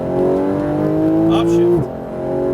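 Porsche GT3 RS engine revving hard under acceleration, a steady rising howl that drops sharply at an upshift, with a voice talking over it.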